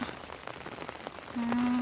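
Heavy rain pattering onto surfaces outdoors during a flood, a soft steady hiss with scattered drop hits over nearly two seconds, joined near the end by a faint high tone.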